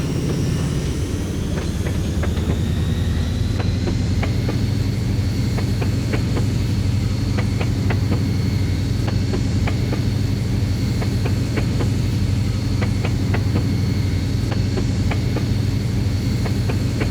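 A diesel locomotive rumbles steadily along the line in the train simulation game Mashinky, a constant loud low drone with faint rhythmic clicks of wheels passing over rail joints throughout.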